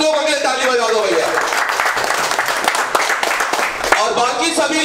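A crowd of participants at an Android CPU competition claps and cheers, busy and loud, with voices talking and shouting over it.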